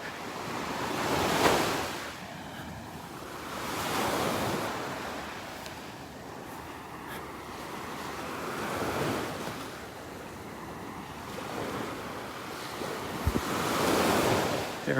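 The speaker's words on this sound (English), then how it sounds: "A nice look up Area 4 beach here." Ocean waves wash onto a beach in North Naples, Florida, in slow swells that rise and fade every few seconds amid steady wind noise, with no voices.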